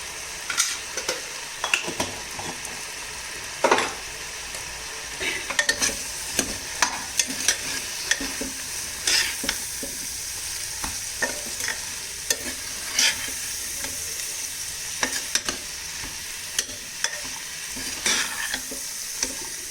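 Cumin and coriander powder frying in a pan while being stirred, with a steady oily sizzle under repeated spoon scrapes and taps at an uneven pace, close and fairly loud, with no talking.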